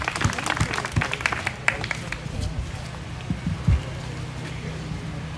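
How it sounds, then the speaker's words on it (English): A crowd at an outdoor Trump rally and Youth Liberation Front gathering in Salem, Oregon claps in a loose, fairly distant patter, with a few shouts and voices mixed in. "Please, a round of applause."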